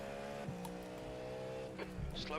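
Race cars in the iRacing sim during a 24-hour Le Mans race: a steady, droning engine note from the driven car while another car passes close by, with brief rising whines near the end.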